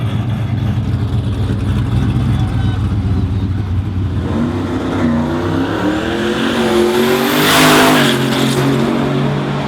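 A drag racing car at Roadkill Nights accelerating hard, its engine roaring loudly and climbing in pitch through a long top-end charge, with a rising whine near the end.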